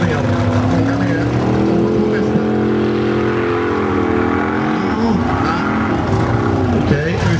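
A Formula Offroad car with a powerful engine revs hard and loud nearby at an off-road event, the engine note rising and falling as it works, with a voice talking over it.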